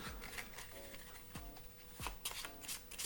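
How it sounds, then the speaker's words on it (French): A spectator shuffles two piles of playing cards close by, producing quick riffling bursts and soft card slaps in a fairly quiet setting, with several separate shuffles. "vous demandez au spectateur de mélanger ces deux paquets"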